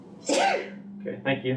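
A single sharp sneeze during a planning meeting, close and fairly loud, followed by a person briefly speaking.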